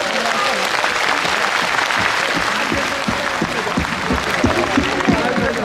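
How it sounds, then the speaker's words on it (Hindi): A seated audience at an RCM Rupantaran Yatra motivational event in Patna claps for themselves, a loud, sustained burst of many hands applauding together with no break. "दोनों हाथ ऊपर करके एक बार अपने आप के लिए ताली भी बजा दीजिए"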